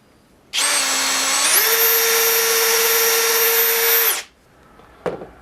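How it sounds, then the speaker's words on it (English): A power drill whirs loudly and steadily for about four seconds drilling into wood, its pitch stepping up once as it speeds up, then stops abruptly. "we're going to just drill one of them"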